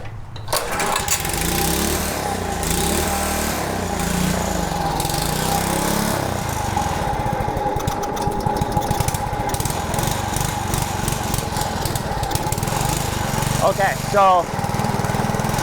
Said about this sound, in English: it's wanting to rev. Okay, so we have confirmed it does high rev